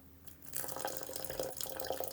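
Filtered water pouring from a bucket into a fish tank over substrate, a steady close splashing and trickling stream that starts after a brief quiet moment and runs on without talk.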